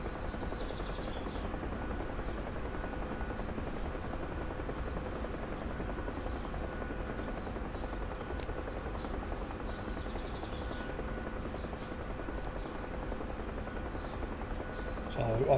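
A Bell UH-1 Huey helicopter in the DCS flight simulator drones steadily with a continuous rotor and engine hum, even and unbroken throughout.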